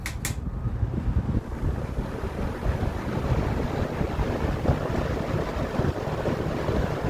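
A vintage Sears 20-inch whole house fan, repainted, runs at high speed with a steady, loud broadband rush of moving air, preceded by a couple of brief clicks.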